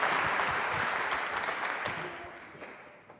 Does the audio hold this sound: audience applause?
yes